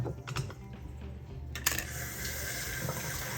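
Brined slices of eggplant are dumped into a strainer, a quick rattle and clatter followed by a steady wash of running rinse water, faint and close with no talking.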